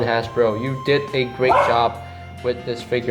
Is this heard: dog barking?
yes